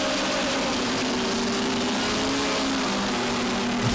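A black and red race car's engine at a New England racing event, a steady mid-pitched drone, held fairly constant and heard without talk.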